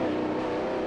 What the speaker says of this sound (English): twin turbocharged V8.